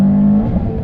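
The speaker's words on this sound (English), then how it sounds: "Rolling out, I can hear that Cobb exhaust." A Subaru WRX STI with a Cobb exhaust accelerates in second gear, giving a brief, loud, close, steady engine drone with a strong low tone that shifts slightly near the end.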